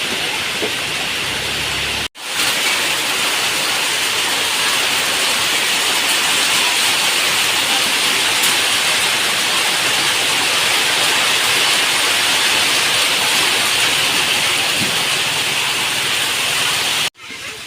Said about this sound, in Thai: ตกหนักมากเลยครับวันนี้ฝน